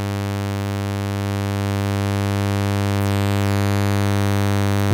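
A steady, buzzy sawtooth tone from a Eurorack harmonic mixer module holds one pitch, rich in harmonics, with a brief sweeping shimmer in the upper range midway through.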